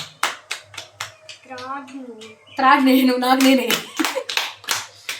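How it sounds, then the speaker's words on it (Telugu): Several sharp, irregular hand claps ring out close by during a children's game, with people talking over them in the middle. "క్లాప్స్ కొట్టండి"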